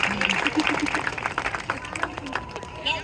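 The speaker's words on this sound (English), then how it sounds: "Give him another round of" Scattered outdoor clapping from a renaissance faire bird show audience, lighter and uneven, with individual claps standing out amid crowd murmur and bits of nearby voices.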